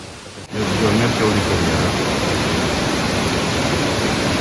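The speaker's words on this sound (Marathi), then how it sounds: "पाऊस आहे ना एकदम मुसळधार पाऊस पडत आता" A sudden onset of dense, roaring heavy rain at a jungle night campsite with tents, steady and loud throughout after a brief quieter start.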